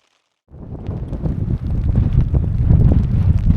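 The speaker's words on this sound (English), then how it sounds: "It's 9 a.m, it's really windy, it's raining a lot." Strong wind buffeting a tent on a rainy morning during a hike across the Bauges Massif: sudden onset of loud, gusting roar and flapping that builds and stays up close to the microphone.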